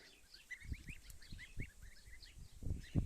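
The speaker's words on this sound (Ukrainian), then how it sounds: "І гуси пасуться." Repeated short calls from grazing geese over a steady outdoor hush, with occasional dull low thumps nearby.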